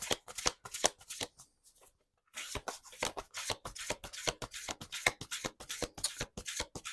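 Tarot cards are shuffled by hand at close range in quick, rhythmic riffling bursts, with a brief pause before the shuffling resumes steadily.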